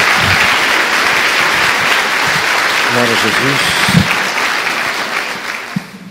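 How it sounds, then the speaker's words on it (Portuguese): A church congregation applauds continuously during a sermon, loud sustained clapping filling the space while a voice speaks over it. "Dê uma salva de palmas a Jesus."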